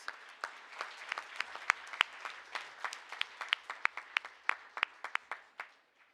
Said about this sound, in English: All right, how about another round of applause for Ms. Beatles?